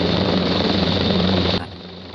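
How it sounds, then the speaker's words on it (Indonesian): A loud, steady helicopter rotor drone close by, holding level before abruptly dropping off near the end. "suara helikopter terdengar dari kejauhan"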